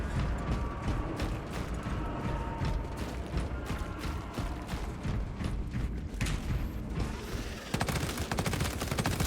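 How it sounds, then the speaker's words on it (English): Gun magazine being swapped in Space Marine 2, a busy run of mechanical clicks and ratchety clacks buried in dense battle noise and distant gunfire, with a sharper burst of clatter near the end. "Magazine out, magazine in."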